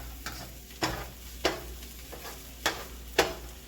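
Vegetables for fried rice pushed aside in a frying pan, five scraping strokes of a utensil against the pan over a soft continuous sizzle, close and without talk.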